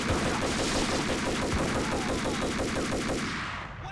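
Uzi fire in the Max Payne video game, a continuous rapid burst of automatic shots, loud and dense, running for several seconds before cutting off near the end.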